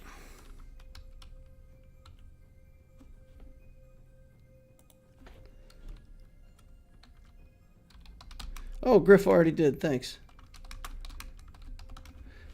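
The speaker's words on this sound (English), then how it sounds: "So I'm typing over the top of Griff." Rapid typing on a computer keyboard, a steady patter of light key clicks that runs through most of the stretch, with a person speaking briefly over it near the end.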